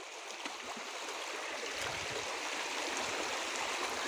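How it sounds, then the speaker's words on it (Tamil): Water rushing forcefully down a stream near Rajapalayam, a steady, loud, broadband roar with constant hiss and gurgle, close by and uninterrupted, with no voices. "கொஞ்சம் நல்லா பாருங்க, தண்ணி நல்லா ஃபோர்ஸாக வருது."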